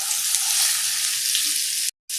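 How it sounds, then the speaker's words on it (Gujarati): Okra sizzles loudly in hot tempering oil, a dense continuous hiss that cuts out abruptly near the end. "ભીંડાને વઘારની સાથે સરસ રીતે મિક્સ કરી દેવાનો"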